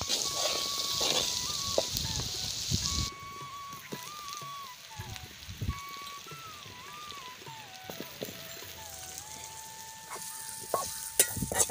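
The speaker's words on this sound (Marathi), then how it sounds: "आता हे चांगलं परतून घेते।" Garlic, turmeric and red chilli fry in a pan with oil, a crackling sizzle that is strong at first and then softer, broken by occasional stirring clinks, while a high electronic tone and some background sounds run beneath.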